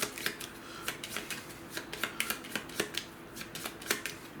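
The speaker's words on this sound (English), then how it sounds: "I have my exhaustion that is shuffled into my deck" A deck of cards for the Flamme Rouge board game is shuffled nearby, a fast series of crisp riffling clicks and flicks in a steady rhythm, fairly quiet.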